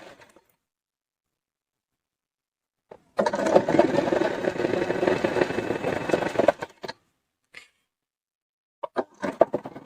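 A sewing machine stitches a salwar belt seam in one fast continuous run of about three seconds after a silent pause, followed by a few brief clicks and handling sounds.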